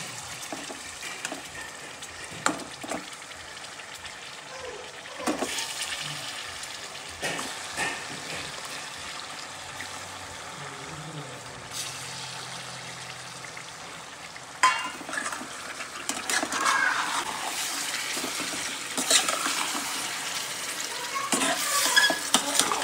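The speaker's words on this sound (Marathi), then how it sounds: "तर चिकन टाकून घेऊ आपण आता." Chicken pieces, including leg pieces, frying in a pot, with loud steady sizzling and repeated stirring and scraping strokes close by. The sizzle swells louder toward the end, and no one talks.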